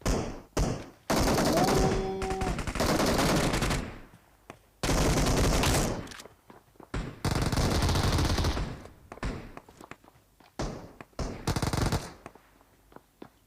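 In PUBG Mobile, loud bursts of automatic gunfire come in several sustained volleys with gaps, plus scattered single shots and thuds from the match, with no talk.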